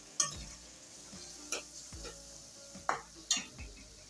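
Onions and chilies cook slowly over low heat in a pan with a faint, quiet sizzle. A few louder scrapes and clinks of a spoon against the pan break in now and then, near and without speech.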